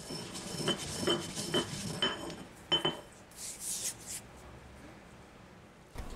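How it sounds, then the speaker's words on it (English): An old-fashioned mortar and pestle grinds spices for homemade sausage, giving close scraping and clinking strokes in an uneven rhythm, some sharper knocks among them, with no talking. "I like using an old-fashioned mortar and pestle"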